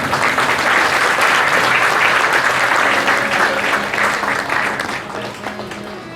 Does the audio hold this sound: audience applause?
yes